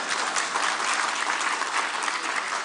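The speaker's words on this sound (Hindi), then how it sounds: "ताली अभी मत बजाओ, आगे बजाना जब उसका जवाब आएगा।" An audience applauding, dense sustained clapping from many hands at a steady level, close and fairly loud.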